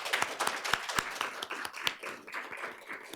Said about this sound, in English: Please, let's give him a big hand of applause.